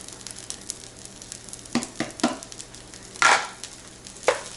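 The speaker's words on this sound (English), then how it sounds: "Goes in the green onion for some coloring." Chopped green onion sizzles in hot oil in a frying pan while being stirred for an omurice, with a soft steady hiss and a few louder scraping stirs near the end.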